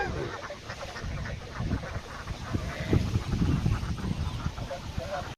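Ducks quack and honk in a noisy flock, with overlapping calls close by that grow busier toward the end while people talk in the background.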